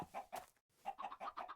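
A Minecraft chicken clucks in two quick bursts, then after a brief gap a run of rapid clucks. The sound is close and clear with no talking over it.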